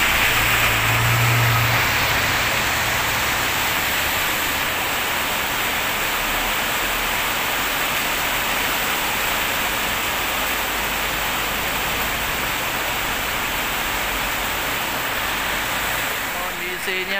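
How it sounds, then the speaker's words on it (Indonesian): Steady rain falling at a bus terminal in Depok, heard as a dense, loud, unbroken hiss that fills the scene with little variation, a faint low rumble briefly beneath it at the start. "Kondisinya hujan lur, ranting hari ini."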